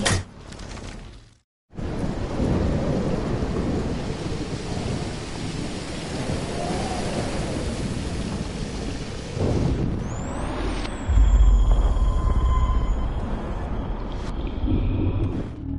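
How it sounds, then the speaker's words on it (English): Heavy thunderstorm in the video game Life is Strange: steady loud rain roars throughout with rolling thunder, a brief cut to near silence early on, then a deep rumbling crack later, with no one talking. "More storms."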